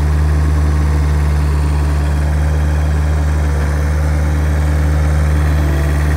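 Caterpillar 247 compact track loader engine idling, a loud, steady, low diesel rumble with constant vibration and no change in pace throughout.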